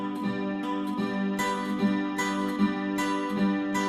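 Close Chilean guitarrón strumming of a tonic chord in a steady rhythm, with diablitos adding bright, crisp accents on the strokes.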